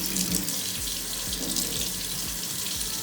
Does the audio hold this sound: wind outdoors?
no